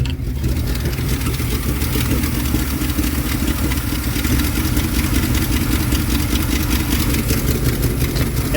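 A 1973 Dodge D200 pickup with a 360 V8 and 727 automatic idles steadily close by, a deep continuous rumble with an even lope and no talk over it.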